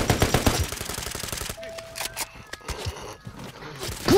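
Close bursts of automatic gunfire crackle in the video game Call of Duty, fast rattling volleys up front giving way to scattered sharper shots and game effects, with a brief talking voice mixed in.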